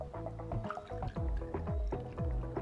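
Remy Martin 1738 cognac poured over sugar and citrus peels, a close, quiet series of glugging, dripping liquid pulses with a bubbly, uneven rhythm.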